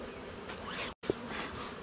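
Honey bees buzz around an opened beehive during a beginner inspection of two hives, a close, dense hum that cuts out for a split second and then resumes.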